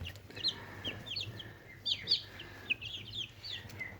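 Young chicks cheep in a small box on a smallholding, faint high chirps scattered in irregular clusters over a low steady background hum.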